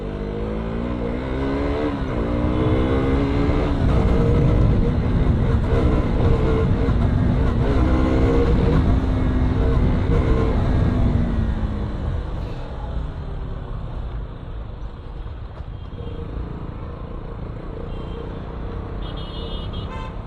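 Car engines rev and roar nearby amid busy road traffic, with a few horn toots sounding over it before it fades to a quieter rumble.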